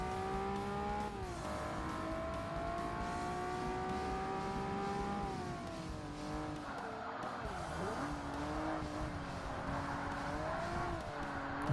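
A race car in Forza Motorsport slides through corners with its engine revving hard and its tires squealing steadily. The engine pitch dips and recovers in waves as the car skids.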